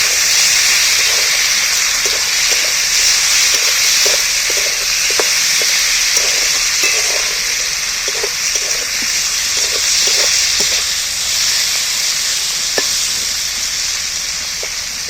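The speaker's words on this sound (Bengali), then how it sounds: "চটিটা আমি তেলের মধ্যে তুলে দিই পেঁয়াজের উপরে এইবার আমি ভালো করে কষিয়ে নেব" Jackfruit pieces frying in hot oil over onions, a loud continuous close sizzle with scattered spatters and stirring scrapes throughout, no voices.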